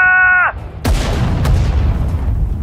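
Artillery firing in the Sudden Strike 4 war strategy game, a single loud blast with a long rumbling decay, preceded by a brief electronic tone.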